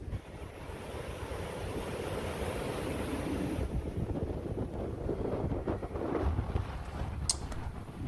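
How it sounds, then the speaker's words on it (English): Strong hurricane gusts at the eyewall in Slidell, Louisiana roar against the microphone, a loud continuous rushing buffet that surges and shifts with brief sharper blasts. "Getting some pretty hefty gusts behind me."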